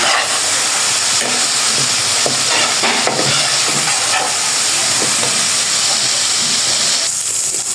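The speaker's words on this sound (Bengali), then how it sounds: "এখন হচ্ছে আমি আদা রসুন বাটা, জিরা, ধনিয়া, হলুদ, মরিচ, লবণ দিয়ে মশলাটা কষাই নিতেছি।" Ginger-garlic paste with cumin, coriander, turmeric, chili and salt frying in oil in a pan, a steady close sizzle and hiss with occasional stirring clinks, continuous throughout with no voices.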